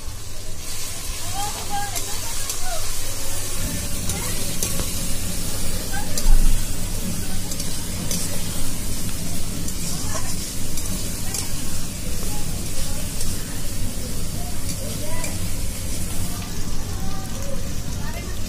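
Spice pastes of garlic, ginger, turmeric and chilli powder frying for a chicken curry, a continuous hiss and sizzle like steady rain, with a person speaking over it.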